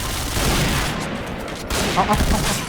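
Rapid gunfire from a Point Blank first-person shooter match fills the whole stretch, a dense continuous burst of shots with busy game sound behind it.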